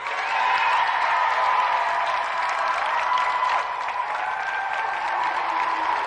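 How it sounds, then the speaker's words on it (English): A television studio audience claps for two competitors at the end of a video games show, a steady, sustained round of applause with no talking over it. "So let's give another round of applause for two brilliant competitors, Andy Thomas and Jim McIver."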